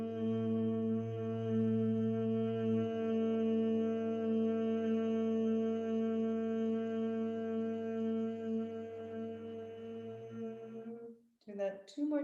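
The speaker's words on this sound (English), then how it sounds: "And may you hum what you're receiving," A single person hums a steady, sustained low tone for about eleven seconds, close and even, then trails off into a brief breathy break.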